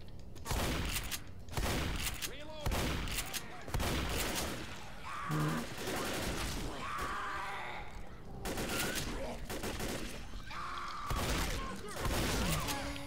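Dense, loud gunfire fills a Left 4 Dead zombie shooter match at a construction site, with rapid overlapping shots and booming bursts that continue nearly without pause, while players talk briefly over the action.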